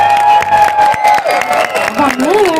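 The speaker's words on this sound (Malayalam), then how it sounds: "നമ്മൾ അടിച്ചു പൊളിക്കുന്നുള്ള രീതിയിൽ കൈയടിച്ച്" Audience clapping and cheering at the Keli Mega Show stage event in Riyadh, a loud crowd roar with applause and whoops mixed under amplified music and a voice over the sound system.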